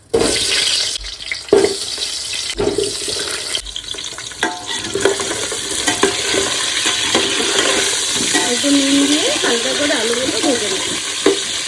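Potatoes dropped into a hot pan of oil, with loud bursts of frying sizzle, stirring clatter and a continuous hiss up close, plus faint background noise and voices.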